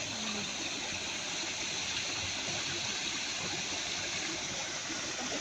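Waterfall at Sentosa Nature Discovery in Singapore, a steady, dense rush of falling water filling the whole scene evenly from start to finish, close and loud with no voices.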